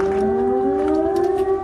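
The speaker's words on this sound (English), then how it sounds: "I think the sound of the air raid siren" An air raid siren wails with a loud, sustained tone, holding nearly steady with a slight upward drift in pitch.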